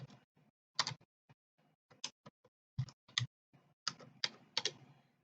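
Keys on a computer keyboard are typed in short, irregular bursts of sharp clicks, close and fairly quiet, with brief pauses between strokes and no speech.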